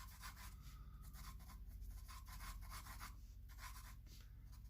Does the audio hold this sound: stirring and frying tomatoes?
no